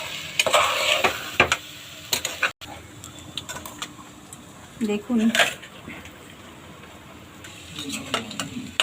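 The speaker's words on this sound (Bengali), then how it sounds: "মশলাগুলো দিয়ে ভালো করে এবার নেড়ে নিতে হবে" Spices being stirred in a pan for a Bengali banana flower curry (mochar ghonto): scraping and stirring strokes over a soft sizzle, with bursts of scraping separated by quieter stretches and faint background sounds.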